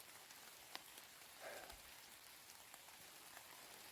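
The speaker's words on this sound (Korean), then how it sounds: "산에는 아직 가랑비가 내리고 있습니다" A light drizzle falls in the mountains on a rainy hike, making a soft, steady patter of fine drops with an occasional louder tap. It is very faint and quiet throughout, with no one speaking.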